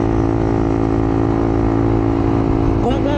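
A Honda CBR150R sport motorcycle engine runs loud and close with a steady, buzzing drone, then its pitch climbs briefly near the end as it revs and accelerates.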